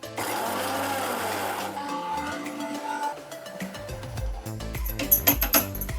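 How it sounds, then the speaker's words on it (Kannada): A mixer grinder whirs loudly as it blends chopped vegetables with ajwain and no added water for Maharashtrian thalipeeth, a steady motor drone for about two seconds that then gives way to clattering and knocking bursts. "ಇದೆಲ್ಲ ತರಕಾರಿಯಾಗಿ ನಾನು ಮಿಕ್ಸಿ ಮಾಡ್ಕೋತೀನಿ."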